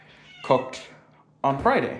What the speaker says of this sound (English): As you can hear him meowing